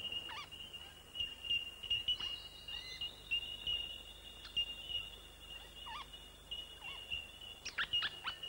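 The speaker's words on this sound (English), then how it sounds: "there's a bell miner's colony at the edge of the forest" A colony of bell miners calls at the edge of an Australian rainforest, repeated sharp, clear bell-like pings from several birds overlapping at irregular intervals, moderately near and ringing over quiet forest background.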